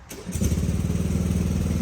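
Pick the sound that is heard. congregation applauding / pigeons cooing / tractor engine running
tractor engine running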